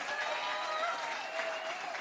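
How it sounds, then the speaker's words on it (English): Audience applause, a steady wash of clapping from a crowd that holds at an even level throughout the short clip. "Give them a big round of applause."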